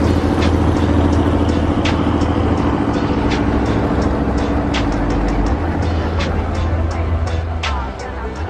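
A Chevrolet Corvette C7 rolls along with a steady loud low rumble and road noise, with faint clicks and rattles over the drone.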